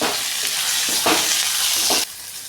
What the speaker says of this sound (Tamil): தக்காளி வதங்கிட்டு கொஞ்சம் உப்பு போட்டுக்கலாம்.